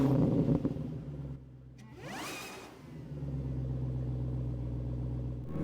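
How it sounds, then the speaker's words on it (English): Tire rubbing on the inside front of a Porsche 911 GT3 while turning out of a driveway, a brief scraping whoosh over the low engine rumble of the car in motion. "You can hear the rubbing on the inside front tire on my way out."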